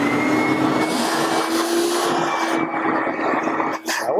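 A Ridgid shop vac runs steadily through a Dust Deputy cyclone on a DIY dust collection cart, a loud, close, continuous whine and rush of air that briefly dips near the end.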